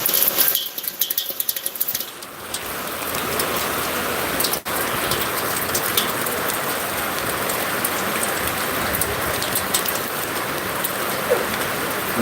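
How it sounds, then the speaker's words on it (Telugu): Heavy, steady rain pours down continuously on a bypass road in Zaheerabad, a dense broadband hiss of drops striking pavement, loud and close throughout with no talking. "బైపాస్ రోడ్లో వర్షం అయితే భారీ ఎత్తున అయితే కురుస్తుంది"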